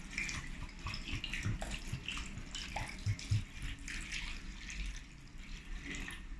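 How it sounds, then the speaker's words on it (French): Bordeaux red wine is poured into a Cookeo multicooker for a bourguignon, a soft steady liquid trickle and splash that runs quietly and continuously with a few faint knocks, close by. "Donc je commence à vider le vin."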